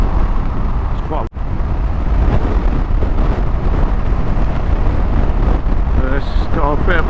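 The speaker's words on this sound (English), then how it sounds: "It's got a bit of a wind." Wind buffets the microphone with a steady, loud low rumble throughout, outdoors on a blustery day before a motorcycle rally ride, with a brief dropout partway and faint voices underneath.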